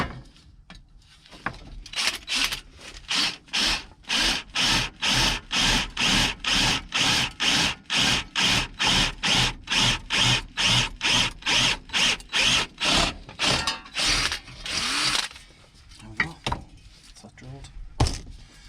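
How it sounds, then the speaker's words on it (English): A power drill runs in a long series of rhythmic bursts, drilling a Subaru Impreza bonnet, close and loud, with brief pauses between each whir, a voice speaking faintly at times. "Just drill it while it's in."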